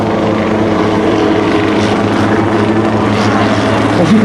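Close, loud and constant throb of a small piston helicopter's main and tail rotors with engine drone, one of a Bell 47G, Enstrom or S269 at a rotorcraft show.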